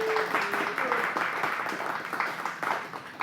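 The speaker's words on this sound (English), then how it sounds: "Nice round of applause." An audience gives a round of applause at a televised event, steady mid-distance clapping from many people filling the moment, with a brief voice or whistle near the start.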